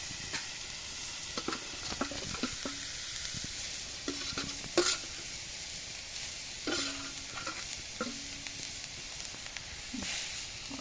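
Fish fries in a hot pan with a steady close sizzle, while a utensil scrapes and clatters against the pan now and then as the pieces are stirred.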